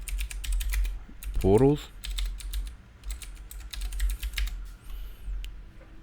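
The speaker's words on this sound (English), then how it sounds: "now we want to type AliExpress" Crisp clicks of typing on a computer keyboard, quick irregular keystrokes near and fairly quiet, with a brief spoken word partway through.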